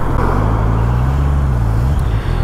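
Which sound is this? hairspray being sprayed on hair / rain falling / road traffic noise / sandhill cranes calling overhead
road traffic noise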